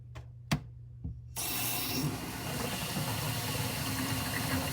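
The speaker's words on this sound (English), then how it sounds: "All right, cold water is on." Cold water rushing through newly opened household water lines after a SharkBite shut-off valve install in a bathroom: a few knocks and clunks, then a sudden steady loud hiss of flow that continues close by.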